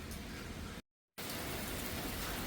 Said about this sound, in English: Never ever rains like this, man.